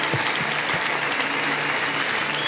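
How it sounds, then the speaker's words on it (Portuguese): A church congregation claps together in a steady, dense wash of applause, loud and continuous throughout, with faint voices underneath. "Dê um aplauso ao Senhor."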